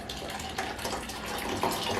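Half and half pours into an ice cream base for old-fashioned peanut brittle ice cream, making a continuous close gushing and splashing stream of liquid that runs steadily from start to end.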